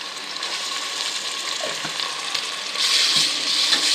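Ginger garlic paste sizzles steadily in a hot pan, a dense continuous frying hiss with a few soft stirring scrapes, close and loud with no talking.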